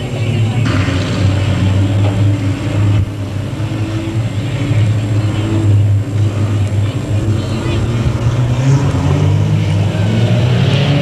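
Race cars at Delta Speedway roar around the oval in a continuous loud engine drone, rising and falling as they bump down the front straightaway, with a commentator's voice over the noise.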